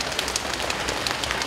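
A group slapping their knees to imitate a rain shower, a dense, even patter of many soft overlapping slaps with no voices.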